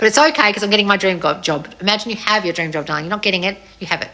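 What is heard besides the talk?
No distinct noise like a dog, phone or traffic.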